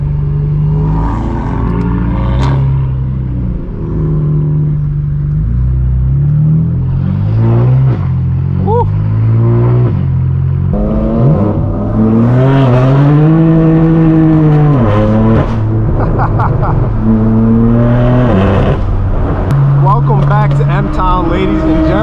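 A straight-piped BMW M4 F82 drives at an LA car meet alongside other M cars, its exhaust a loud, close, raspy drone that rises and falls through repeated revs and gear changes. Someone talks over the engine throughout.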